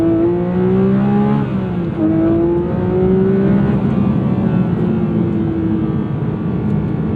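A Porsche 911 GT3 992.2 with a naturally aspirated flat-six pulls hard under sustained acceleration, its loud rising wail climbing through gears with brief dips at each upshift, heard from inside the car with no talking.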